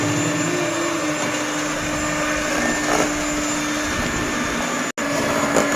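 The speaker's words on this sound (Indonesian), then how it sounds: "jadi ini guys proses mixer adonan" An electric hand mixer beats batter for a sponge cake, a steady, even motor whir with a faint tone running through it, heard up close and alone, with one brief dropout partway through.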